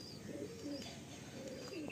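Caged pigeons kept for sale give low, rolling coos in a couple of short phrases, near and fairly soft against a faint steady background hiss.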